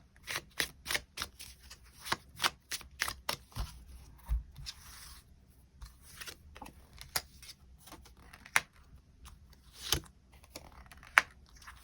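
Tarot cards being shuffled and drawn for a love reading, a run of sharp, evenly spaced snaps and flicks followed by softer scattered taps and slides, close and fairly quiet, without any voice.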